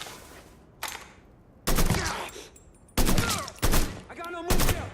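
Gunfire in the Mafia 3 video game, several loud close bursts of shots and rapid fire spaced across a few seconds, with a quieter stretch at the start.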